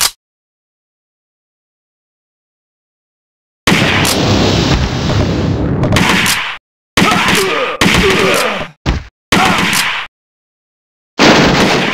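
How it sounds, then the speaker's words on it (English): Machine gun fire in the arcade shooter Virtua Cop 2, loud sustained bursts of rapid shots and explosive booms separated by short silences. "Machine gun."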